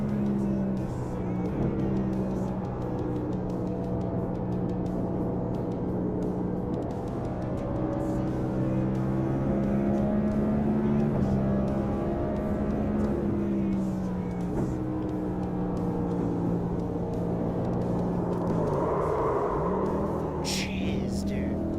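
NASCAR race car engine in a racing video game, a steady loud droning roar with rising and falling pitch as it holds revs through corners, continuous throughout.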